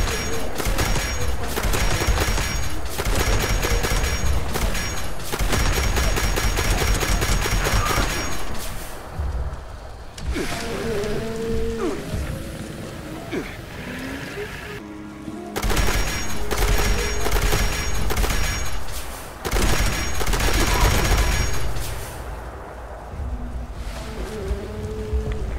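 Railway rifle fire in the game Fallout 76: two long, loud volleys of rapid, rattling shots, each lasting several seconds, with quieter gaps of lingering mechanical and ambient game sound between them.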